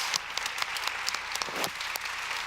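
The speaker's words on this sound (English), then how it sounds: "let's give her a round of applause" Moderate applause from a community gathering crowd honoring board members, a continuous patter of many hands with a few sharper individual claps standing out, heard at a slight distance and fairly quiet.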